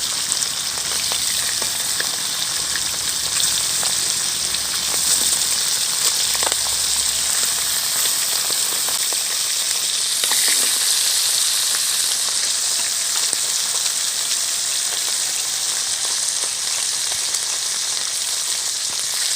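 Hilsa fish pieces fry in hot oil in a pan after being turned, giving a steady close sizzle and crackle with occasional sharper pops, no voices.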